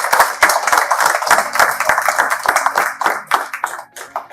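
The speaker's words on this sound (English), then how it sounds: "So a huge round of applause for them" An auditorium audience applauds with loud, close, clearly separated hand claps in a brisk, slightly uneven rhythm that thins out toward the end.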